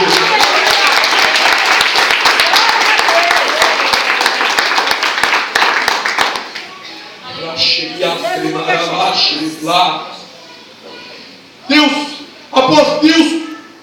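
A church congregation claps in praise, loud and dense for about six seconds, then fades as a preacher's voice resumes in bursts.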